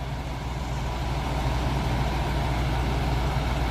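A fire engine idles at a car crash scene where a car hit a building in Fountain Valley, giving a steady, loud, low diesel rumble without a break.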